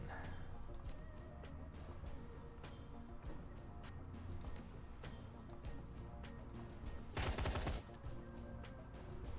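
Gunfire in the Shadowrun Hong Kong video game sits in a busy game mix, with a loud, sharp burst of shots near the end standing out above the steady background.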